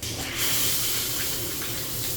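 Water pours steadily from a newly installed filter shower head, a close, continuous hissing spray that stays even for the whole moment.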